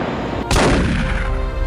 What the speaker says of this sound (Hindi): गोली की आवाज दूर तक सुनाई पड़ी